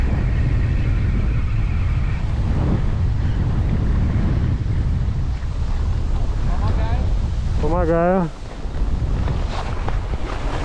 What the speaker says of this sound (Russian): Вот ветер просто шквальный.